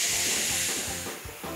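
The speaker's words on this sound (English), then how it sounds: "We'd use a really, really long yellow hose to put out the fire." Water sprays from a long yellow fire hose onto a campfire near trees, a broad steady hiss that holds loud and close, with low tonal hum underneath and a slight dip and swell near the end.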